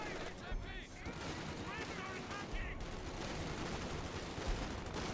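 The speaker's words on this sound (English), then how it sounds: "There's some heavy mortar barrage coming in." A heavy mortar barrage pounds the battlefield in Company of Heroes 2 on the Road to Kharkov map, steady overlapping blasts and gunfire forming a constant roar with faint voices in the mix.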